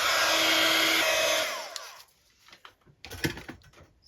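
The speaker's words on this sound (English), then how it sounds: "let's get my heat gun." A heat gun blows steadily with a loud, broad whooshing roar for about a second and a half while crafting tags, then shuts off, leaving faint handling clicks and taps.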